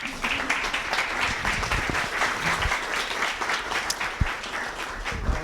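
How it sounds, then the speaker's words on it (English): A round of applause from parents and guests at a school open house and information night, dense sustained clapping from a room full of people that carries evenly for several seconds. "please give them a round of applause"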